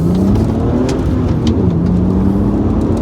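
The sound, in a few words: BMW Z4 3.0 M54 accelerating in first gear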